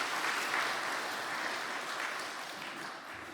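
A church congregation at a Saturday worship service applauds, a dense, steady round of clapping from many hands that gradually tapers off toward the end.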